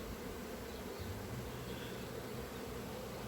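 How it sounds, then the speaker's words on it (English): Bees flying toward a wide orchard fill the air with a steady, soft, continuous buzz that holds an even level throughout, with no voices. "Oh, beautiful sound of the buzzing bees"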